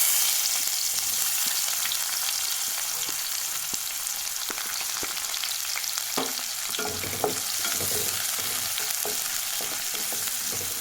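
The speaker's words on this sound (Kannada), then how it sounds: "ಈರುಳ್ಳಿ ಗೋಲ್ಡನ್ ಬ್ರೌನ್ ಆಗೋವರೆಗೂ ಹುರ್ಕೊಳ್ಬೇಕು." Chopped onions fry in a pan for dal fry, giving a steady, dense sizzle with occasional stirring scrapes and pops, close by and with no talking.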